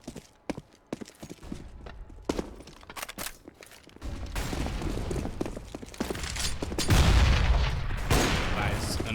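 A grenade and gunfire in Counter-Strike on the Train map: scattered sharp shots give way to a denser, louder burst of firing and explosion rumble, with faint voices in the mix.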